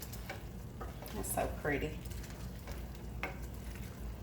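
Creamy chicken and shrimp pasta sauce with bacon is stirred in a pan, a soft low bubbling and scraping under a brief remark from a woman, quiet and close.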